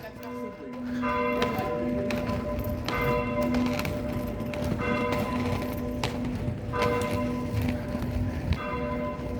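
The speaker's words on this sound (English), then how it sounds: "That's a lot of bells." Church bells ringing in Paris, a repeated clanging peal with several strikes at irregular intervals over a constant background din of street ambience, moderately distant and fairly loud.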